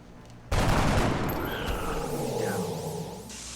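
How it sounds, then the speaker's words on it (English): A shot fired at a sectoid in the XCOM Enemy Within video game, one loud sudden blast followed by a long booming tail and sweeping electronic warbles. "who can now move up and take a high percentage shot at the mind-merging sectoid"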